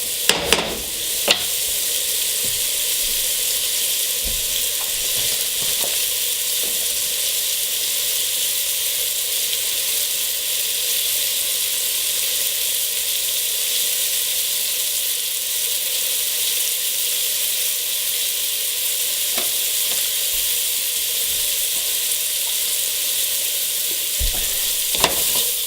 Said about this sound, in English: You just want to brown this off, about 3 minutes. You want to do all sides as evenly as you can on a medium-high heat.